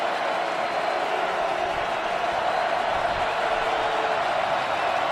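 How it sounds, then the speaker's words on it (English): A stadium crowd at an NFL game between the Broncos and Chiefs in 2018 gives off a steady, even wash of distant murmuring noise with no distinct peaks. "Crowd noise."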